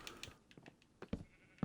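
Lime green sheep in the Minecraft video game bleat in a few short, soft calls, with faint game clicks between them.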